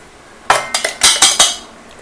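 Ground herbal ingredients for a homemade hair-dye oil are scraped into hot oil in a pan: a quick run of about five sharp, close metallic clinks of a spoon against the vessel.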